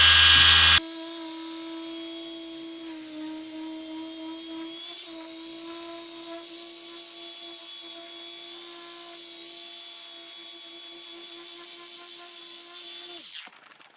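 An Adam's SK Pro Micro cordless polisher runs under heavy downward pressure, holding a loud, steady high-pitched whine for about thirteen seconds without bogging, then spins down at the end; close and continuous, no talking.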